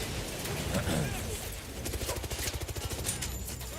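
Gunfire from the 007 First Light video game trailer, a rapid burst of repeated shots in the second half over music and effects, with a voice talking over it.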